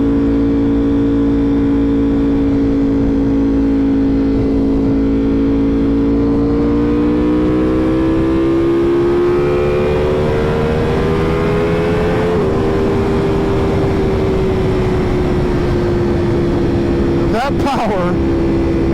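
A 2023 Ducati V4 R with its V4 engine pulls steadily, its tone climbing through the revs in one long, loud run; near the end a brief sharp burst cuts through.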